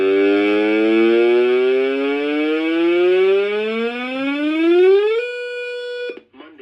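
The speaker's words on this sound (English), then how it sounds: "I'll siren test it." During a siren test, a loud electronic siren wails as one long rising sweep, then holds a steady tone before cutting off abruptly with a short crackle.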